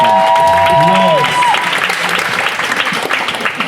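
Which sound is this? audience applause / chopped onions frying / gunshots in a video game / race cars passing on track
audience applause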